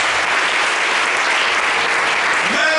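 A church congregation applauds in a dense, continuous wash of clapping that stays loud and even throughout.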